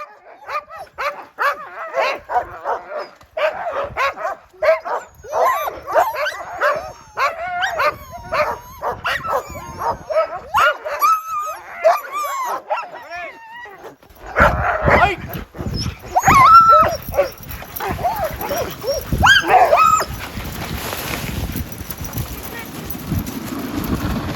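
Sled dogs bark, yip and whimper eagerly in an excited, overlapping chorus close by, with louder bursts and wind noise later on, and people occasionally speak among them.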